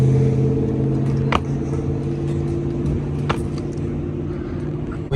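An RV engine idles and rumbles low and steady while the vehicle backs up, with a couple of brief clicks or knocks over the continuous drone.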